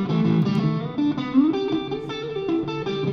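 A Stratocaster electric guitar played through the Brainworx Suhr PT100 amp plugin with a light echo rings out in sustained, slightly driven notes and bends, loud and alone.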